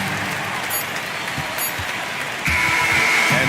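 Basketball video game crowd noise, Celtics against Warriors, forms a steady dense roar of cheering and applause that swells louder near the end, with a faint commentary voice running under it.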